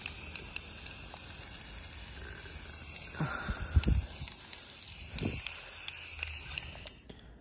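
Aerosol spray paint hissing onto metal patio furniture during a restoration, a steady faint spray with short bursts and light clicks, no talk.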